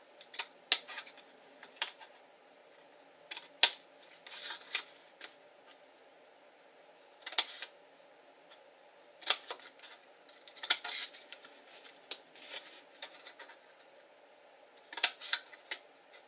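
Scissors cut and notch card for a gift box lid, giving irregular crisp snips and clicks at close range over a quiet room, with short pauses between cuts.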